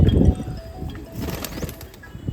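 Grey pigeons coo softly in low, rolling murmurs on a rooftop, with a few faint rustles and light chirps in the background.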